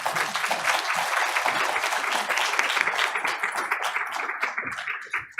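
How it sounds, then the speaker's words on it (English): An audience at a transportation safety panel gives a full round of applause, a dense, loud burst of many hands that holds steady and then thins into scattered claps as it fades. "we already gave them a round of applause"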